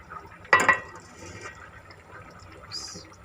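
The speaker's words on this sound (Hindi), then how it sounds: "पानी डाल देते हैं" Water poured into a nearly finished curry (salan) cooking in a pot for a family dinner: a brief splashing gush at the start, then a faint bubbling simmer trailing off.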